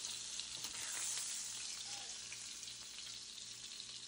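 Ribeye steak sizzling steadily in a cast-iron skillet while being basted with butter, a soft continuous crackle and hiss with faint spatters, close and quiet, with no one speaking.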